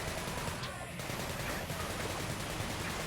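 Continuous, roaring gunfire in Sunset Overdrive, a steady dense wall of shooting and noise with no clear breaks.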